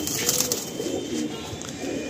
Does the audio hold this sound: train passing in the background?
no